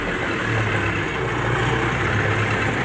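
MTZ-82 tractor engine idling at a steady, loud, continuous diesel rumble with a low hum, close by and without talk, during wheat stubble disking.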